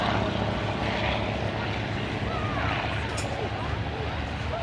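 Fieseler Storch and Piper Cub light aircraft flying in a mock dogfight at a 2004 airshow, a steady loud propeller drone with broad rushing noise that holds throughout.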